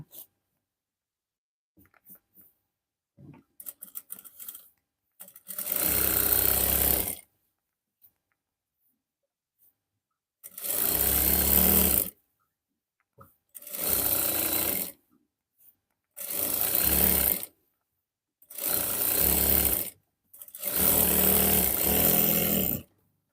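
A sewing machine stitches pajamas in five separate bursts of whirring, each a few seconds long, with quiet pauses between and faint handling noises at the start.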